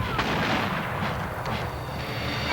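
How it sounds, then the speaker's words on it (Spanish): Cannon artillery fire in a reconstruction of the Battle of Palo Alto, heard as a dense, continuous roar of distant booms and rumbling under a constant wash of battle noise, with no clearly separated shots. "batalla de Palo Alto se inició con el rugir de los cañonazos, y muy pronto se convirtió en un duelo de artillería"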